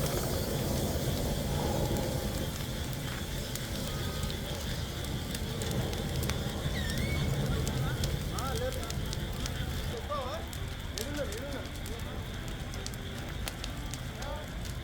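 A private travels bus and a container lorry burn after colliding on the Kurnool to Chittoor highway near Nandyal, giving a continuous roar and crackle of fire heard from a distance, with faint voices in the background.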